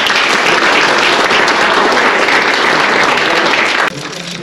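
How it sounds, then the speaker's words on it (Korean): A crowd at a policy agreement signing ceremony applauds loudly and steadily, the clapping dropping off sharply near the end to a quieter murmur. "다시 한번 큰 박수 부탁드리겠습니다"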